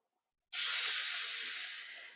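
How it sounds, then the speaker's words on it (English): Oil hisses loudly in a hot wok on a stovetop, starting abruptly after a short silence and holding as a steady, bright sizzle that tapers slightly toward the end. "While it's hot, I just added in a little bit of oil and I lower the stove."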